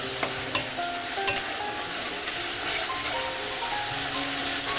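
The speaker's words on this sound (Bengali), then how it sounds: "এই মশলাটা কিন্তু খুব ভালোভাবে কষে যাবে, কষাতে হবে" Ginger, onion and garlic masala sautéing in a pan, a continuous close sizzle with scraping stirring strokes and occasional light knocks of a spoon.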